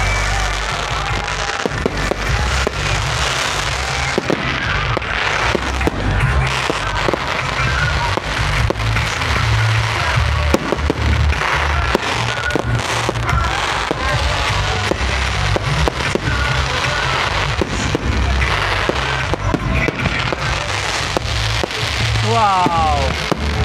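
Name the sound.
New Year fireworks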